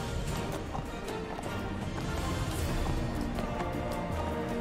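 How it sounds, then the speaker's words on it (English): Hooves clip-clop steadily on a mounted horse in the fantasy video game Neverwinter, a continuous busy patter of game sound with no talking. "Let's use my horse, because it's there."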